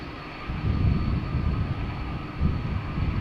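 A Delta Airlines jet on a flight to Portland, Oregon, starts its departure from Amsterdam Schiphol Airport. A steady, moderately loud engine rumble swells slightly in waves. The airplane is a 19-year-old airframe, first flown in May 2005.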